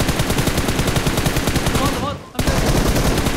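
Rapid automatic gunfire in PUBG Mobile rattles loud and continuous, pausing for a split second before resuming, with a player briefly speaking over it.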